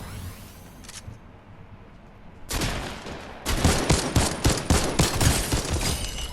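Rapid bursts of gunfire in Fortnite Battle Royale, starting with a brief shot, then a loud, dense fusillade of overlapping, rhythmic shots that fills the second half.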